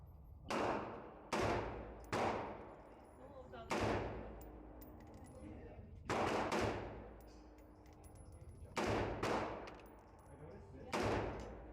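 An AR-15 rifle firing Winchester ammunition at a shooting range, loud single shots in irregular pairs and singles with ringing echo tails, about ten reports in all.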